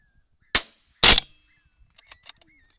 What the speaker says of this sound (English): Gotta shoot.